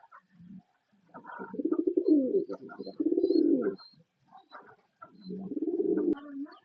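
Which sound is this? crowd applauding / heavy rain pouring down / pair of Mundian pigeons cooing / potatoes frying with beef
pair of Mundian pigeons cooing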